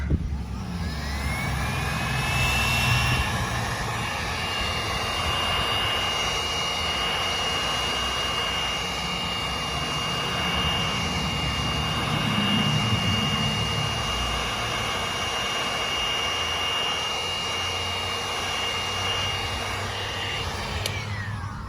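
A cheap heat gun blows steadily while stripping paint, a loud continuous roar with a thin whine that holds without a break for about twenty seconds.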